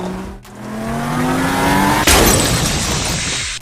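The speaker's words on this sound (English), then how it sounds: "our next crash is going to be this taxi driving into a brick wall" A LEGO taxi speeds up with a rising engine whine, then hits a brick wall with a sharp crash and scattering clatter of pieces, loud and close.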